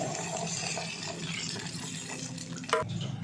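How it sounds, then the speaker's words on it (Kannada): Water pours steadily into a pot of frying potato and brinjal huli with a continuous gurgling splash, ending in a brief clatter. "ಈಗ ಹುಳಿಗೆ ಎಷ್ಟು ಬೇಕೋ ನೀರು ಅಷ್ಟು ನೀರು ಹಾಕ್ತಾ ಇದ್ದೀನಿ"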